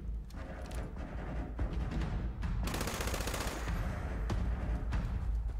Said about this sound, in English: That's some bad shooting right there.